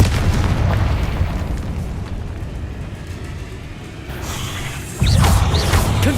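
A Confringo blast spell explodes in Hogwarts Legacy, a loud booming burst over a rumbling low roar, with a second heavy blast striking near the end.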